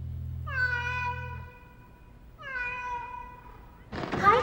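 A kitten meows twice in the video game Zone of the Enders, each clear, drawn-out cry near and fairly loud, followed by a short burst of noise; a low hum underlies the first meow.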